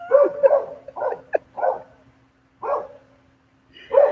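Several dogs bark in short bursts, a cluster of quick yips and barks followed by a pause and two more barks, fairly close and loud with no talking.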